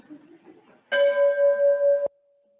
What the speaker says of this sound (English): I'm going to sound the gong so we're official.